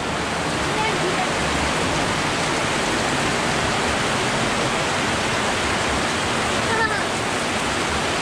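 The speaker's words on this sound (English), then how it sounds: "The rain keeps getting harder and harder." Heavy rain pours down in a dense, steady roar of broadband hiss that stays loud and unbroken throughout.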